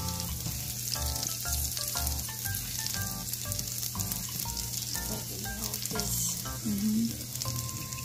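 Garlic sizzles and fries in a pan for fresh lumpia, a loud, continuous crackling hiss with occasional stirring, no talking.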